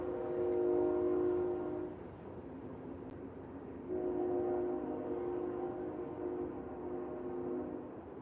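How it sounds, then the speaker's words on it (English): A distant train horn sounds in long sustained blasts, pausing briefly and then returning, with no one talking. "That is the train."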